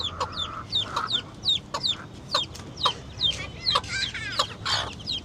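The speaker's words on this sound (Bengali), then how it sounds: "মা মুরগির সাথে মারামারি করে দেখছেন" Hens cluck and squawk near the microphone in short, rapid bursts, with a mother hen squabbling among the flock. The calls are steady and repeated, with no talking.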